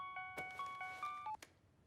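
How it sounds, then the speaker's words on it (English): A phone ringtone plays the Halloween theme song as a quick run of faint, pure electronic beeps in a repeating melody, each tone short and evenly spaced. "Is that the Halloween theme song as a ringtone?"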